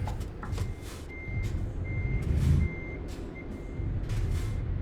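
Repeated electronic reversing beeps from a truck in a truck-driving video game, sounding at a steady interval over a low, rumbling engine drone, with a faint hiss like an air brake.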